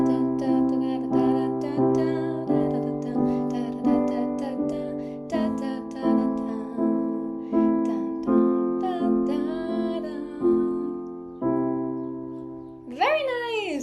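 Piano chords from a song are played in a repeating rhythmic strum-like pattern, each chord struck and decaying, ending with a brief bright flourish.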